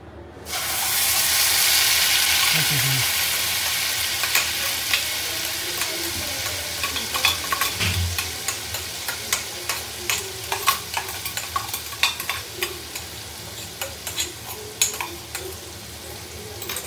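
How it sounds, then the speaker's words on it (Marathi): Raw masala paste sizzles in oil on a tawa while making egg tawa masala, a loud steady frying hiss with frequent stirring scrapes and crackles close up. "आता याच तव्यामध्ये आपण थोडंसं तेल टाकून जी आपल्याकडे पेस्ट आहे ती आपण गरम करून घेऊ।"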